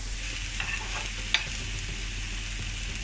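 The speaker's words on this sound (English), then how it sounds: "my peppers, my spring onions to a pan, which has a little bit of olive oil on it, and it's been heating up quite nicely" Peppers and spring onions fry in a little hot olive oil in a pan, a steady soft sizzle with a couple of brief clicks from stirring, no voices.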